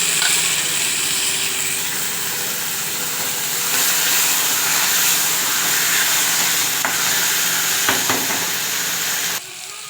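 Onion, coriander and tomato sauté in a hot pan with a loud continuous sizzle and occasional stirring clinks and scrapes, close by, ending in a sudden drop.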